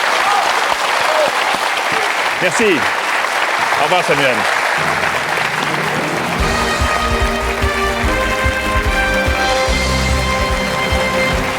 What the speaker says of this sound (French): Des applaudissements du public.